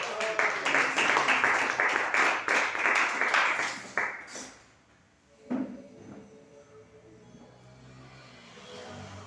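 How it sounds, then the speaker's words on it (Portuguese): A church congregation claps for Jesus during a sermon, a dense burst of many hands lasting about four seconds before tapering off, followed by a single thump and then a quiet room. "Voltei a sentar e bater as palmas para Jesus."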